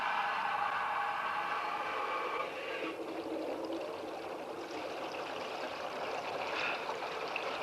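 Water rushes steadily into a submarine airlock with a continuous, fairly loud gushing flow that softens slightly partway through, with no talking.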